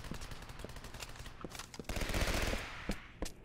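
Gunfire in the video game Legendary, with fast, irregular bursts of shots and a heavier sustained volley near the middle, fairly loud and close with no talking.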